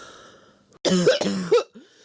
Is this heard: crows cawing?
no